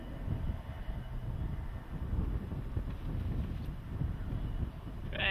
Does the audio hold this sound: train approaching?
yes